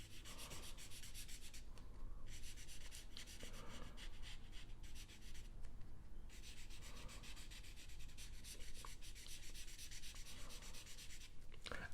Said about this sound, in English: Erase those pencil lines.